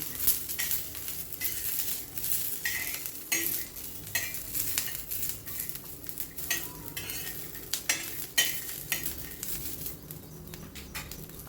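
Green chillies frying in oil for Maharashtrian thecha, a steady crackling sizzle with repeated scraping stirs of a spatula, close and alone without talk.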